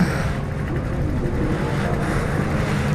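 Go-karts launching at a race start at LaitseRallyPark on a damp track give off a dense, loud, unbroken engine buzz that holds steady throughout.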